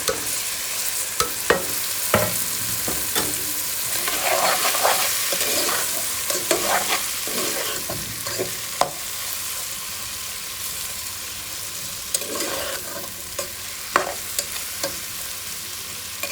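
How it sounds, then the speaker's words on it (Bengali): Vegetables for a Chinese-style vegetable dish seasoned with soy sauce are stir-fried in a hot pan, a loud continuous sizzle broken by repeated scraping and clanking of the spatula as they are tossed, with no talking. "এখন সবগুলো সবজি দিয়ে দেবো"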